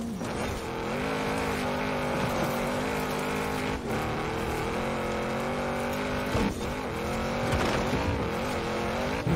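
A Lamborghini supercar in Forza Horizon 4 driving on dirt: a loud, sustained engine drone with shifting revs, several brief dips and surges, and no talk.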